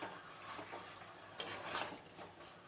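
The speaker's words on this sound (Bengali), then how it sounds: "ভালোভাবে নাড়তে হবে।" Chicken curry masala stirred in a pan, soft scraping strokes over a quiet sizzle with one brief louder scrape midway, close and low in level.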